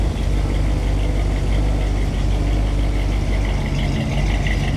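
A dark blue 1947 Ford Deluxe Coupe hot rod idles from behind, giving a steady, loud low rumble with an even throb and no voices.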